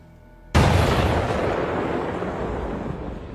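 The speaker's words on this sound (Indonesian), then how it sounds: "Dan ketika bom Claymore meledak" A Claymore mine detonates in the 2023 action film The Mother: a sudden loud blast at about half a second, then a long, broad rumbling decay that fills the rest of the moment, with no voices.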